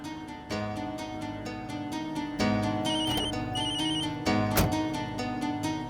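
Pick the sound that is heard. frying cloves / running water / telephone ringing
telephone ringing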